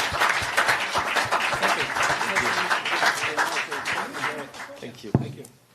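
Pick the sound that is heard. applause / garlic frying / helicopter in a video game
applause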